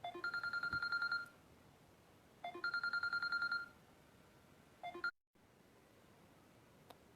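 A mobile phone rings during a public speech, giving two long bursts of bright electronic beeping tones, each lasting about a second, then a short chirp. Quiet room tone fills the gaps, and nobody speaks.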